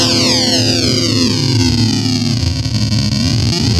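A buzzy distorted synth tone from a WMD Geiger Counter Pro sweeps downward as sample rate reduction bends aliasing artifacts across it, growing harsher and grittier, loud and continuous.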